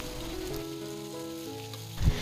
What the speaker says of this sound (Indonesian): Masukkan semua jengkol, kemudian kita aduk-aduk hingga semua tercampur merata.